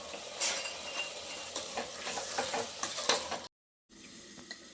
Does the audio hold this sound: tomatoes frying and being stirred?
yes